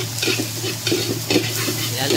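Onion and garlic sautéing in a pan for kare-kare with beef tripe, a steady close sizzle with soft stirring scrapes of a utensil against the pan.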